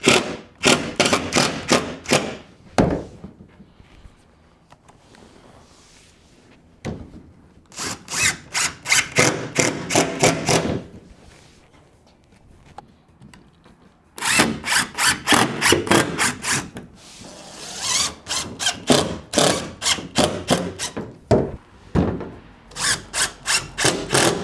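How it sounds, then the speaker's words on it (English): Power drill driving a couple of screws into a casting deck on a 1448 Lowe jon boat, heard as several loud bursts of high whirring, each ending in thumps, with quieter gaps of handling noise between them. "And now let's put a couple screws in it."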